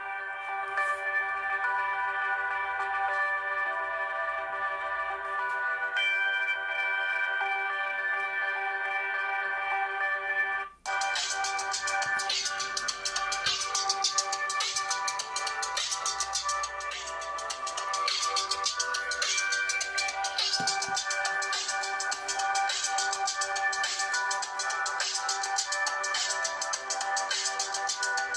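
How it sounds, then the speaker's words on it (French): Royalty-free music plays through the small loudspeaker of an Ulefone Gemini phone, thin and treble-heavy with little bass, starting softer and then turning fuller and busier after a brief dropout, continuous with no talking. "Pour le son, on va écouter avec une musique sans droit d'auteur que j'ai pris sur YouTube."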